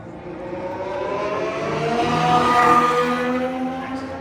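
A Formula 1 car's engine at the Las Vegas Grand Prix, a steady loud whine that swells and peaks near the middle as the car passes close, with no talk over it.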